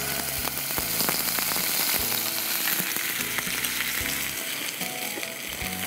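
Ginger-garlic paste frying in hot tempered oil for a Begum Bahar kofta curry, a loud, steady sizzle running throughout with occasional clinks of a spoon, no voices.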